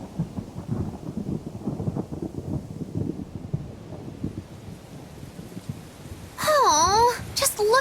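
Rain patters steadily under rolling, rumbling thunder in the video game Tales of Berseria, with a voice speaking briefly near the end over the storm.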